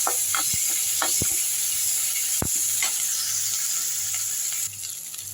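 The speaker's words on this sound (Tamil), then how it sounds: "அடுத்து கருவேப்பிலை போட்டுக்கலாம் இஞ்சி துருவல் போட்டுக்கலாம் பச்சை மிளகா நல்லா வதக்கிடலாம்" Curry leaves, grated ginger and green chillies sizzle steadily in hot oil for a Chettinad kara kuzhi paniyaram masala, with a few sharp pops and stirring clicks over the constant close hiss.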